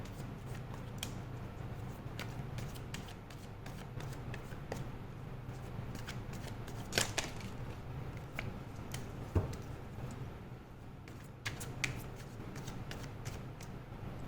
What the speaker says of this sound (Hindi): कार्ड्स को अच्छे से शफल कर लेते हैं